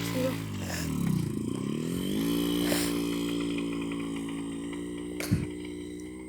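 A moped ridden outdoors, its small engine dipping then climbing in pitch and holding a steady buzzing drone, with a brief clatter near the end.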